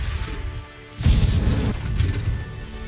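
A Confringo blasting spell explodes in a Hogwarts Legacy battle, a loud, booming burst that suddenly follows quieter game sounds and is followed by rumbling crashes and combat noise.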